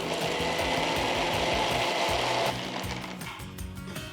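A mixer grinder whirs loudly and steadily while blending fried onion and spices into a paste, then eases to a lower, rougher churn partway through.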